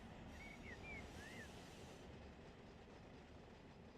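Union Pacific freight train passing in the simulator game Run 8, a steady loud rumble of rolling cars with a couple of brief wheel squeals early on, continuous and close throughout.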